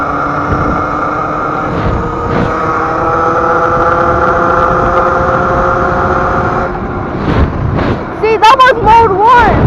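An electric Yamaha YZ85 dirt bike runs in mode 1, giving a steady whining motor hum with wind rush for several seconds. Near the end the tone rises and falls in quick revving sweeps, and a voice speaks over it.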